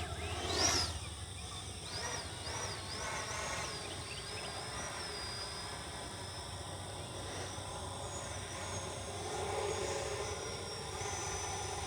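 A Freewing Ares 90mm EDF RC jet, a red 8S 3D ultra-performance model, hovers at a distance with a thin, sustained ducted-fan whine that rises and dips slightly, faint against outdoor background noise.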